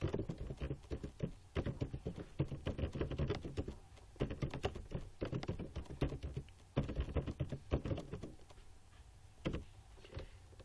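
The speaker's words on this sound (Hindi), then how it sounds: "यहाँ पर आपको टाइप कर देना है मैटर को" Keys clatter on a computer keyboard while entering text into an Excel spreadsheet, a steady run of close, crisp clicks in bursts with brief pauses between them, heard alone without any voices.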